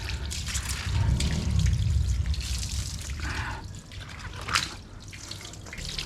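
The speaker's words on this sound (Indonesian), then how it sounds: "Kita siram supaya bersih dari air kerasnya." Water is poured to rinse a car battery, trickling and splashing in a steady flow that swells early, then dribbles with brief spatters, heard close and without talk.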